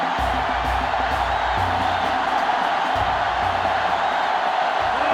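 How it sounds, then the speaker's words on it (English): Stadium crowd at a Georgia Tech vs Georgia college football game in NCAA Football 10, a dense, continuous roar of cheering that stays loud and even throughout. "They're really struggling now as this crowd is going absolutely insane"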